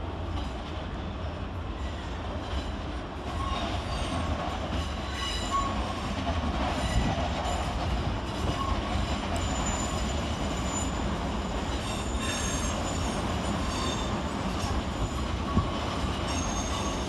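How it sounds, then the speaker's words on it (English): South Western Railway class 455 electric units rolling into London Waterloo, a continuous loud rumble of wheels on track with faint squeals and clatter, steady throughout with no talk. "with the termination of 455 733 and 455 919, terminating with the Southwestern Railway service off Woking"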